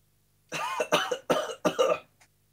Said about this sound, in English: It was a bad cough you got there